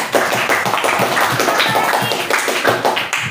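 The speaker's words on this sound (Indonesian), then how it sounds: "Oke, tepuk tangan buat Kaki." Classmates in a seventh-grade school classroom break into scattered rhythmic hand clapping, a few seconds of brisk, uneven applause close by, with faint voices mixed in.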